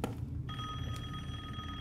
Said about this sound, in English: Answer the damn phone.